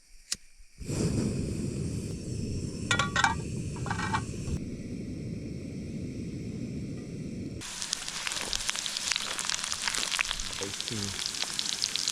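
Potatoes, onions and corned beef fry in a pan at a backcountry camp, a continuous crackling sizzle with a few sharp clinks partway through and a brighter, busier spatter near the end.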